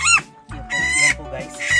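A brooding hen clucks on a clutch of mixed Rhode Island Red and native Bisaya chicken eggs, giving several close, fairly loud clucks with short pauses between them.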